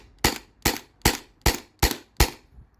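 A modified Sabre 68 HDL paintball marker powered by a CO2 tank fires six sharp shots at a steady rhythm, about two per second, each a loud crack with a short decaying tail and no talking.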